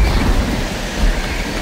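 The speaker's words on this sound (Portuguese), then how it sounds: "começou a chover forte" Heavy rain with rumbling thunder in the video game Left 4 Dead 2, a loud, continuous roaring wash with deep low rumble throughout and no pauses.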